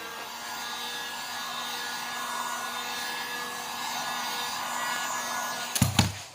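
A heat gun blows steadily while warming carbon fiber vinyl wrap on a fender flare, a continuous airy whoosh held at even loudness, ending in a short burst of bumps and handling noise.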